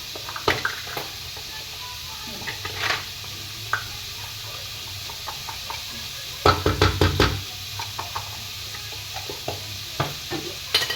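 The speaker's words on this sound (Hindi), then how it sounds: "ये अच्छे से फ्राई हो जाए।" Spring roll filling fries in a pan with a soft steady sizzle, broken by scattered knocks and scrapes of a utensil stirring against the pan, with a denser cluster of clatter midway.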